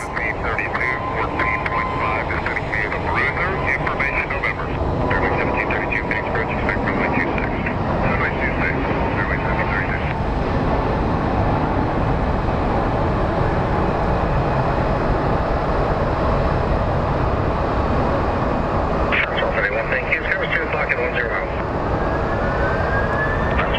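Airliners at Phoenix Sky Harbor airport, including a Spirit Airlines jet taxiing, make a constant loud roar of jet engines, with whining tones rising and fading while people talk over it.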